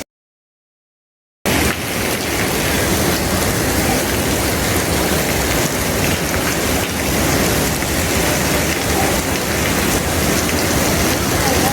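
After a moment of silence, a dense, even hiss of spraying water starts and continues steadily, sounding just like heavy rain.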